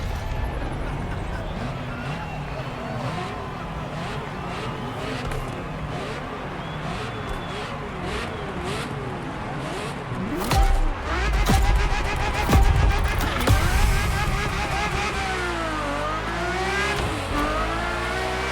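A Ferrari F80 supercar engine revs and drives loudly and close, its pitch sweeping up and down through gear changes with a surge of power midway and tire noise, continuous throughout with no talk.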